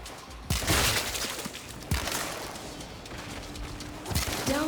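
A Warframe explosion bursts with crashing, shattering impacts as debris tumbles down, several loud broadband hits spread across a few seconds over a rumbling game backdrop.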